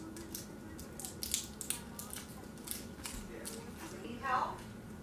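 Scissors snip a few times at close range, faint and crisp over a soft background murmur.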